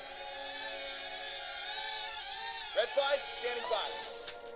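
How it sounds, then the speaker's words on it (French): A toy X-Wing drone hovers with a high, whiny rotor buzz that shifts in pitch as it descends to land on a white cross, loud and close, with brief speech partway through. "Je vais essayer de le faire atterrir sur la croix blanche en 3 essais."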